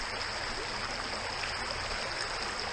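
Steady rushing water of a stream, a continuous broadband babble with no pauses and no voices.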